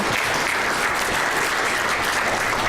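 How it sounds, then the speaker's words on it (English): Steady, dense audience applause at a theater session, many hands clapping together in a continuous wash of sound that holds at an even level throughout. "A round of applause for Reagan and Mark."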